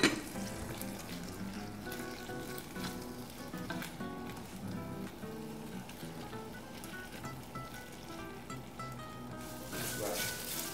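Meat frying in a pan while rice and beans cook nearby, a soft continuous sizzle and crackle heard fairly close, with faint kitchen clatter and no speech over it.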